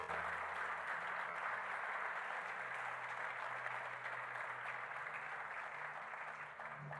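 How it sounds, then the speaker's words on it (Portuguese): A church congregation applauding during a sermon, heard as a steady, even wash of clapping that stays soft and somewhat distant with no pauses. "Você pode aplaudir a Jesus pela palavra dele?"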